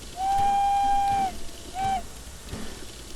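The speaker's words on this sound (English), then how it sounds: "I will give you the whistle." A 7F steam locomotive's whistle sounds one long, steady blast of just over a second, then a short second toot, loud and clear against a quiet background.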